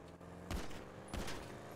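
Gunfire in GTA 5 arrives as two short, loud bursts about half a second apart over a steady in-game background hum.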